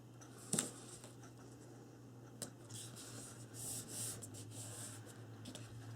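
Paper board being folded along a fold line and burnished with a bone folder for a book box, quiet close rubbing and scraping strokes with a sharp tap near the start, over a faint steady hum.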